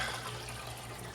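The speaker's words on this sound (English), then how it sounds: "Doing a quick fill up." Water runs steadily into an aquarium sump during a quick fill, a continuous close rushing with a low hum beneath it and no talk.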